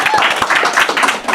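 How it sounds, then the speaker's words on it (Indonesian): Quick, scattered hand claps from a small group ring out over lively overlapping voices, brief and close. "Tepuk tangan dong"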